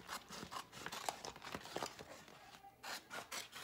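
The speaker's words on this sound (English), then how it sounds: "I'm going to cut right across the bottom of" Close, quiet rasping and scraping strokes as a blade cuts across the bottom of a vinyl sheet for a layered T-shirt design, coming in an uneven series of short rubs.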